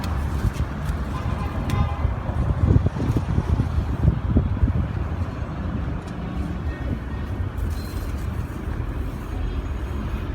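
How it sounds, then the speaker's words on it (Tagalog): Strong, gusty wind roars steadily against the microphone outdoors during a sandstorm, loud and continuous with low rumbling buffets, with faint traffic-like noise in the background and no speech. "Sobrang lakas ng hangin."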